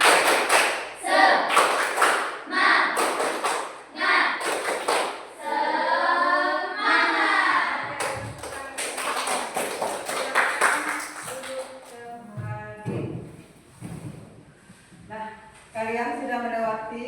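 Students stand and perform a 'tepuk semangat' spirit-clap routine in a classroom, sharp rhythmic clap bursts in quick patterned groups mixed with loud chanting voices, pauses between phrases.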